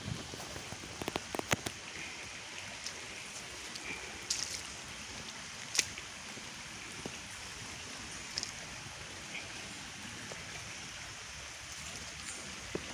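A flowing marsh stream gives a faint, steady hiss of running water outdoors, with scattered soft splashes and ticks and no talking.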